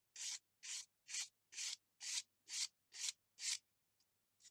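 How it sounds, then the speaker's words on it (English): Sandpaper worked by hand along the root edge of a model rocket fin on an Estes Vagabond kit: eight steady, evenly spaced rasping strokes close up, then a couple of faint brushes, with no talking. "you can just take your sandpaper"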